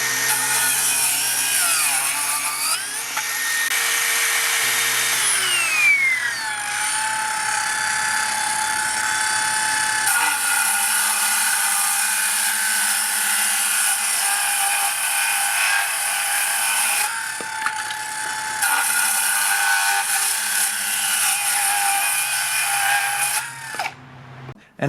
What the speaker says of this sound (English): A bonus point to the HiKoki for silent mode